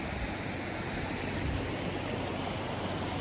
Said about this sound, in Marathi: खळखळ नितळ स्वच्छ पाणी